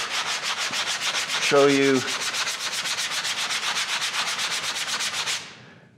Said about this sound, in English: all you got to do to sand this, you don't have to sand the heck out of it